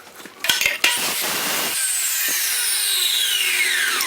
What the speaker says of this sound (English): I'm going to go to the chop saw, make a quick cut